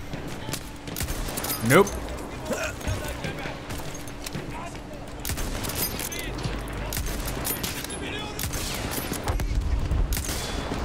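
Scattered gunfire in the video game Battlefield 1, with bursts of shots and distant rattling fire mixed with game noise, while a player talks briefly over it.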